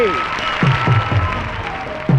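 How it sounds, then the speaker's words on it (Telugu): Crowd applause spreads as a broad wash beneath a man's loud, animated voice at an oil-pole climbing contest, all within a brief burst. "ప్రేక్షక మహాశయులారా, జోరుగా చప్పట్లు కొట్టండి కొట్టండి కొట్టండి"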